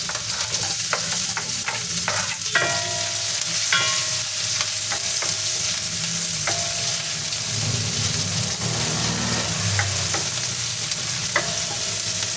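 Garlic and onion sauté in hot cooking oil in a pan, a steady loud sizzle with repeated scraping stir strokes and occasional clinks throughout, no voices.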